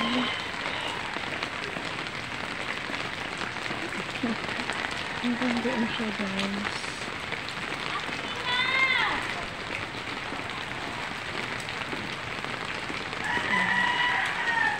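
Heavy rain falls steadily during Typhoon Carina amid flooding, a constant broadband wash with a rooster crowing faintly in the distance and someone talking over it.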